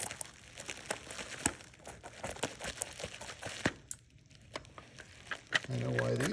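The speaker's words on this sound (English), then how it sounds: "let's get in here with our scissors and cut this plastic open" Scissors snipping through plastic packaging on a Hot Wheels steerable semi truck toy, a series of sharp irregular clicks and crinkles up close, with a low hum entering at the end.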